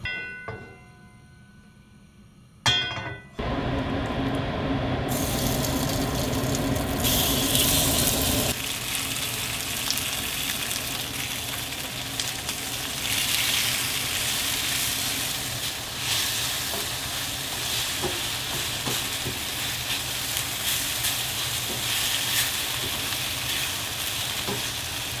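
Beef hits hot cooking oil over medium-high heat with a sudden clatter, then a loud, continuous crackling sizzle that holds steady and close for the rest of the time.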